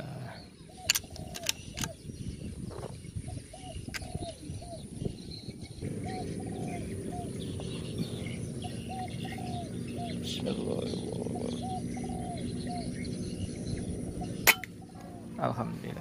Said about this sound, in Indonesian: luar biasa tekukurnya, ratusan ekor kawan